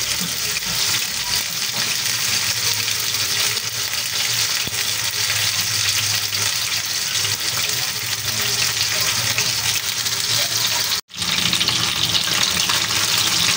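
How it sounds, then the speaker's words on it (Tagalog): Pieces of tambakol tuna fry in hot oil with a dense, loud, unbroken sizzle that drops out for a moment near the end and then resumes just as strongly. "Iprito-prito po natin para hindi po siya malagsak"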